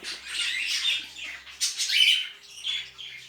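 Jumbo budgerigars in a breeding cage squawking and chirping in short, sharp bursts, close and lively with brief pauses.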